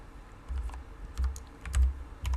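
Close-up typing on a computer keyboard, quick clusters of clicky keystrokes in irregular bursts with brief pauses between.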